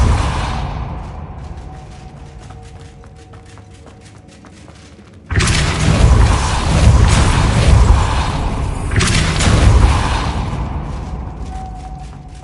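Depulso force spell cast in Hogwarts Legacy on PS5, a sudden loud thudding burst that cuts in abruptly and is followed by sustained rumbling and crashing impacts, with a second swell near the end.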